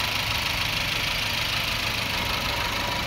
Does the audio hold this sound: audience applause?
no